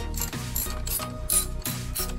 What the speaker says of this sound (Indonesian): kita langsung kencangkan dengan kunci shock ya